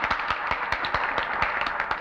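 Studio audience applause for a performer on a 1955 live television variety show, with steady, dense clapping sustained throughout, moderately loud and fairly close, with no voices over it.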